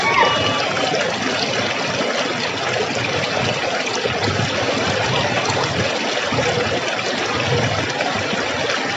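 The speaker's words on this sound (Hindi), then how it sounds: "वहाँ पर जो जल बह रहा है, जो पानी है" Steady rushing and trickling of a flowing stream at Lachhiwala picnic spot near Dehradun, constant and fairly loud throughout with no pauses.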